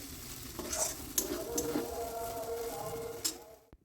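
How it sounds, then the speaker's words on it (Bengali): Lentils cooked down with spices are stirred in a pan while water is added a little at a time, making a gentle sizzle with soft scraping strokes and a faint steady bubbling hiss, quiet and close, without speech. "অল্প অল্প জল দিয়ে এভাবে নেড়ে চেড়ে জলটাকে দিতে হবে"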